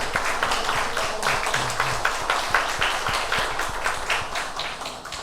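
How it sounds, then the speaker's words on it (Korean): Church congregation giving applause of thanks and encouragement after a choir anthem, a sustained patter of many hands clapping with slight rhythmic pulsing, fading a little toward the end, with no voices. "우리 한 번 더 우리 감사의 박수, 격려의 박수 하겠습니다"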